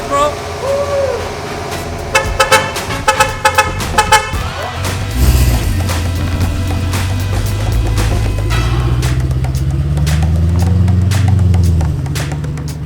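Mercedes-AMG GT63 S built to 1500 horsepower starting up after sitting almost a year, several sharp clatters and pops before the engine settles into a loud, steady low rumble with a rising rev near the end.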